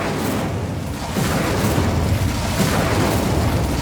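Incendio fire spell blast in Hogwarts Legacy gameplay, a loud, dense, rumbling whoosh of flame that swells and roars continuously at close range.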